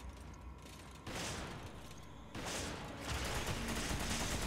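Gunfire in Resident Evil 5, bursts of rattling shots that start abruptly and grow louder and denser in stages, mixed with mechanical clatter and no talk.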